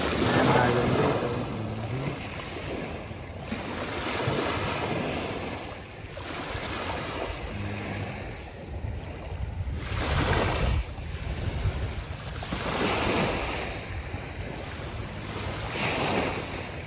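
Ocean waves roll onto the beach at Cha-am, Thailand, at sunrise in steady surges, each swell rising and falling, with wind buffeting the microphone throughout.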